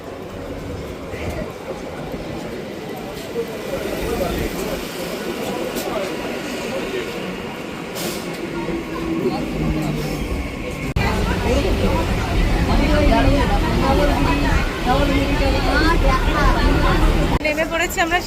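A train pulls into Sealdah railway station amid a busy crowd, rumbling and clattering with rising loudness while people chatter and talk throughout, and a sharp shift in the noise partway through.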